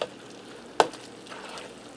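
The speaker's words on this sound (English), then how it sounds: "You want to mix everything up well." A spoon stirs potato stuffing mixed with egg, bread and vegetables in a frying pan, with a soft steady sizzle and one sharp scrape or clink against the pan partway through.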